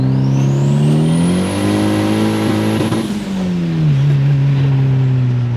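Turbocharged 350 HP Honda Accord with a turbo four-cylinder accelerating hard, a loud, close engine roar climbing in pitch through a gear, dropping at a shift and pulling again, with a high turbo whine rising above it.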